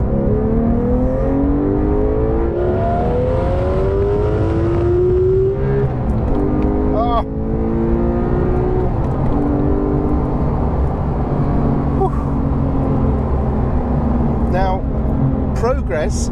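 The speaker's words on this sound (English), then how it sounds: "who fancies some beans in the GT3 Touring? Here we go then, manual gearbox," A Porsche 991.2 GT3 Touring with a manual gearbox accelerates hard, its engine rising in pitch through several gears with brief dips at each shift, loud and heard from inside the car.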